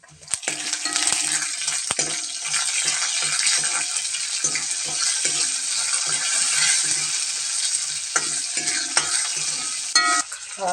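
Mustard seeds splutter and pop in hot oil in a pan for a Kerala buttermilk curry, giving a constant close sizzle dotted with sharp crackles and bursts, with no voices.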